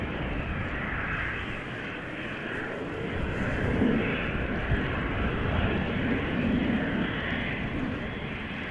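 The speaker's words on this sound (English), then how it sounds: "This is KLM flight 1545, German Airways flying for KLM, going to Leeds, Embraer 190" KLM Embraer 190 operated by German Airways departing Schiphol, a continuous mid-loud jet roar holding steady throughout, with a slight swell midway.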